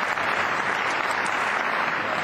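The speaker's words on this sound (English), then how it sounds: "So let's give them a big round of applause when they do stand up." An audience at a national matric results announcement breaks into dense, steady applause for top-achieving students, a short burst of continuous clapping filling the room.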